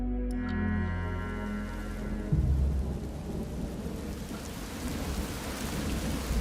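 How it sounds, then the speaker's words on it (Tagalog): Heavy rain pouring steadily with a deep rolling rumble of thunder at the start, a dense continuous wash of downpour filling the whole span, no voices. "nakarinig ng kulog at kidlat ang mga aswang. Nagbabadyang malakas na buhos ng ulan."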